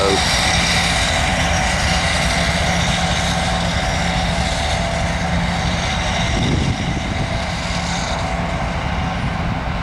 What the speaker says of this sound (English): CSX ethanol train loads going north by the South End Shelby Siding